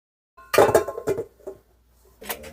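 Spoon clinking and scraping around a mixing bowl while stirring gluten-free banana bread ingredients, with partly melted butter; a few close, uneven strokes and knocks with short pauses between.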